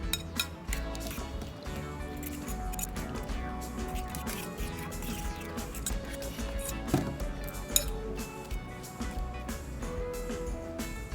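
Four eggs being whisked in a bowl for a crab omelette, with a quick, busy run of light clinks and taps against the bowl throughout, set over steady tonal background sound.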